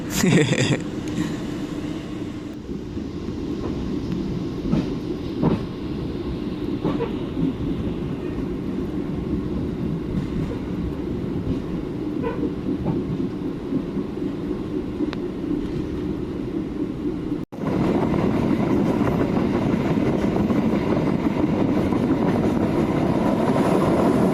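A passenger train pulls into a railway station with a steady, loud rumble of wheels and carriage noise heard from inside, broken by a brief jolt near the end before the roar resumes.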